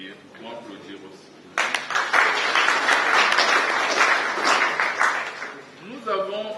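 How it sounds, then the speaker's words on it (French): Audience applause breaks out at an academic book presentation honoring a law professor, starting abruptly after a brief spoken phrase and continuing strongly before tapering as a voice returns. "Nous pouvons applaudir aussi."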